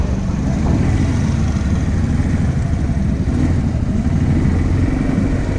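A loud, steady Italika motorcycle engine runs close by, a rough continuous rumble with little change in pitch.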